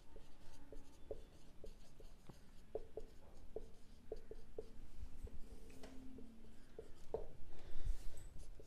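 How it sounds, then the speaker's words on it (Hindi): A pen writes an accounting ledger entry by hand on paper, giving faint, close scratches and short taps in an irregular rhythm over a quiet background, with no talking. "यहाँ पे डालते हैं 15 तारीख और हम लिखेंगे जयश्रीज अकाउंट डेबिट"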